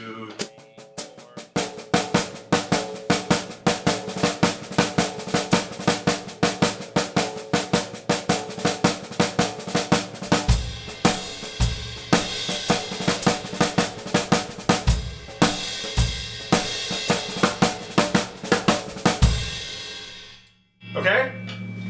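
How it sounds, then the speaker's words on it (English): A snare drum plays a steady stream of rapid double-stroke drags with accents, crisp repeated hits in an even rhythm heard close and alone, stopping near the end. "This is also known as a drag rudiment"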